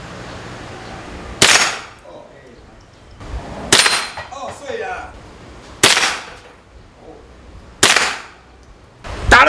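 Toy guns fired at a shooting gallery stall in Pattaya's night market, Thailand, five loud sharp cracks spaced about two seconds apart with metallic clinks after some, while people chatter in the background.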